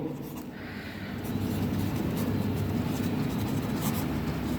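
Pen scratching steadily on paper while a math solution for a ninth-grade rationalization problem is written out, a continuous close rustle that grows slightly louder partway through.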